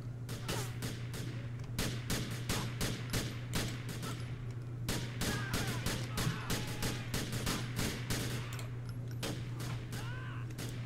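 Rapid bursts of gunfire from a custom pistol in a movie scene, sharp repeated shots fired in quick clusters with brief pauses between volleys, loud and close over a steady low hum.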